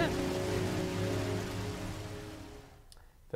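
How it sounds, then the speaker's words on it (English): Steady rain in the video game Heavy Rain, a dense continuous hiss with a low hum underneath, fading toward the end before a brief sharp sound. "The rain, it keeps getting heavier."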